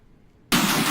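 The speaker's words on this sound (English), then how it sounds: "let's see what this explosion cluster sounds like" An explosion cluster sound effect previewed in a game maker bursts in abruptly halfway through as a loud, dense, sustained roar of broadband noise after near silence.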